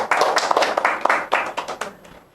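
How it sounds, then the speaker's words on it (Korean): A church congregation bursts into clapping, a dense burst of many hands applauding together near and loud, then thinning and fading out at the end. "박수 한번 쳐주시겠어요?"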